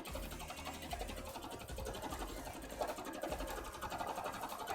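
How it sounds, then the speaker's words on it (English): Sewing machine running a zigzag stitch back over earlier stitching on fabric for a cosplay cape, a steady, fast mechanical whirr that holds close and continuous throughout. "Just doing a zigzag over the stitches we've already done."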